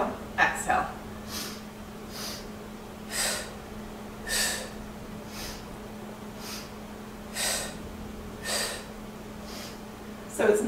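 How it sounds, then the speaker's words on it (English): Sharp, forceful nasal breaths in a yoga breathing exercise, paired short inhales and exhales repeating in a steady rhythm over a low hum, close and fairly clear. "So it's an inhale, inhale, exhale, exhale"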